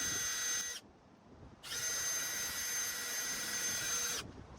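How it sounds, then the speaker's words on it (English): Power drill boring into a stuck piston of a Toyota 2ZZ engine, the bit worked in a circular motion; a loud steady whine runs in two long bursts with a brief pause between, no talk. "So not only am I using the drill, but I'm using a circular motion too, because this drill bit is smaller than the hole."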